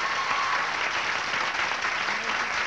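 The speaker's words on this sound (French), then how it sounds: "On les applaudit" A studio audience at a 1978 Québec television variety show applauds three women standing up: a thick, even wash of many hands clapping throughout, full and sustained with no pauses.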